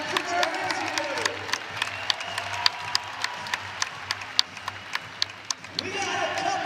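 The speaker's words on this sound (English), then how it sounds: "If you agree with me, clap your hands." A crowd at a college wrestling event applauds and cheers in a large arena, steady sustained clapping with scattered sharp claps, loud and continuous throughout.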